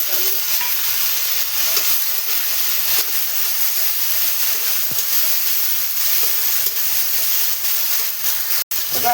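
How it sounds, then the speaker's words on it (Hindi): Onions and tomatoes frying in a pan for Maggi noodles make a steady, close sizzle and hiss that runs through the whole stretch, with a few faint stirring clicks and one sharp tick near the end. "अब इसमें मैंने टमाटर ऐड कर दिए"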